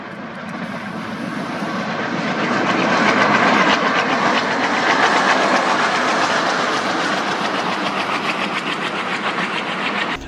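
A loud ALCO diesel locomotive of Indian Railways rumbles past with a steady throbbing engine note and rhythmic clatter of wheels, swelling and holding strong throughout.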